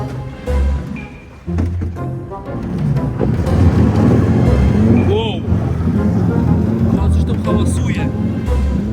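A small motorboat reverses on the water, its engine droning loudly and steadily up close while a person talks over it.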